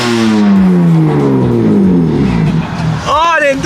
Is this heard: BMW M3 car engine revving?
yes